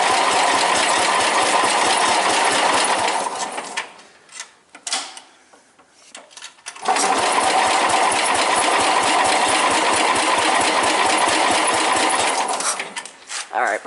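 A Suburban 10 engine struggling through a hard cold start, cranking in a fast, rough, pulsing rhythm that fills the clip, stops for a couple of seconds with a few knocks, then cranks loudly again.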